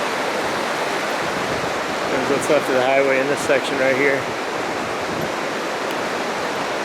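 The North Fork river rushes through a washed-out highway section during the Big Thompson flood, a constant broad roar of fast water, with someone speaking briefly over it midway.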